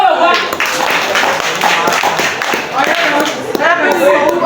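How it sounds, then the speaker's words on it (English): A class of students clapping for themselves, a dense, lively patter of many hands with some voices mixed in. "So clap for yourself."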